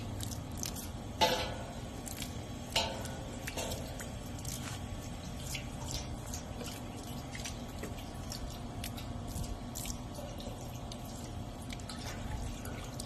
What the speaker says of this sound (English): now I have my water hose, and I am going to hose down